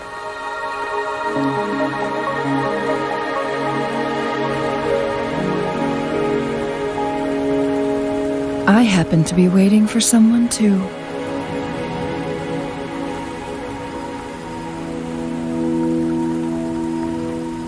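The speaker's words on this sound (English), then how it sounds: "Are you trapped here by the rain?" Steady rain falls in the video game Wuthering Waves, a continuous soft patter running under game music with a short burst of effects near the middle, while someone speaks briefly.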